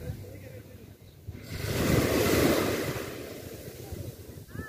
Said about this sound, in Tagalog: Lamog ng hangin.